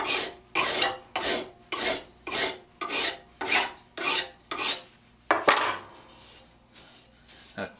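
A Stanley scraper plane blade is sharpened to a 45-degree bevel, making about nine rhythmic rasping strokes back and forth against an abrasive. They are close and evenly paced, then a sharper scrape ends the run and the sound fades into quiet.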